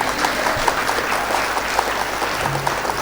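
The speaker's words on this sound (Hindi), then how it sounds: "एक बार जोरदार तालियां बजाइए।" A seated audience at a Hindi comic poetry gathering applauds loudly, a dense, steady wash of many clapping hands that fills the whole stretch without pause.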